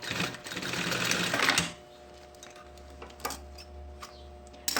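A sewing machine stitches a seam on a backpack's lining and synthetic fabric, a dense close run of rapid stitching that stops, followed by quieter intermittent clicks and a low hum.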